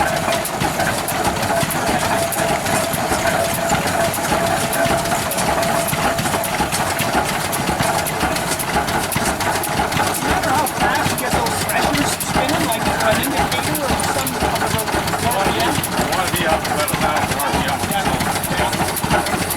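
An antique stationary engine at a steam show, set up to drive a thresher, runs slowly and steadily with an even mechanical chugging, close and continuous, while men chat over it.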